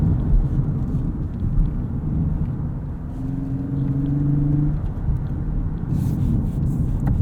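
A 2018 Lexus LS 500 driven in Sport Plus mode along a back road through redwoods, its steady engine drone and road rumble heard from inside the cabin, with a brief rising engine tone midway.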